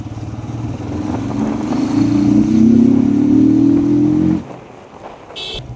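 A motorbike engine drones steadily while riding along a rural road, its tone rising and falling slightly as it revs, close and loud, then dropping away abruptly near the end.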